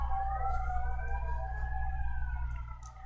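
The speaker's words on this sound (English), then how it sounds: "I'm really sorry about the sirens" Emergency vehicle sirens wail outside, rising and falling in a steady sweeping tone over a low engine rumble, fairly loud and continuous.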